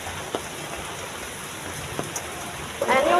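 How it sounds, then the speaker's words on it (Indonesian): Steady rain hisses on a surface nearby, broad and continuous with a few brighter drips, then a louder burst of movement or splashing near the end; no talk. "gimana kita mau pulang nih guys kalau begini hujan?"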